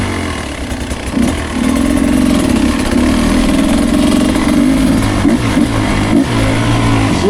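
A Beta 250 Race Edition dirt bike engine idles loud and close, then settles into a steady, rough mid-pitched drone with small throttle blips, running alone without any voices.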